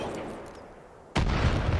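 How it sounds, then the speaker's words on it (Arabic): Gunfire from the video game Far Cry 5 breaks in suddenly as a loud, dense burst after a quieter stretch and keeps going to the end. "في رصاص"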